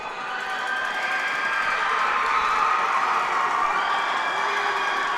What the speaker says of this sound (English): They're getting everyone to cheer for them.